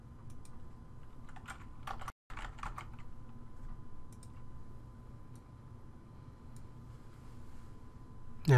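Steady typing on a computer keyboard as a comment is entered into notification software, a close continuous patter of key clicks with one brief pause partway through.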